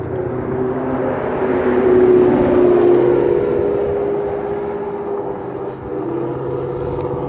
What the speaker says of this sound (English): you hear a car, motor car, in a second